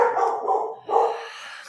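Dogs bark in two loud, close bursts with a short pause between, followed by a fainter yip-like tail, with no voices present.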